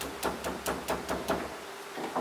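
A wooden hammer pounds slices of papyrus in a steady series of about six dull, evenly spaced thuds, close and moderately loud, then stops.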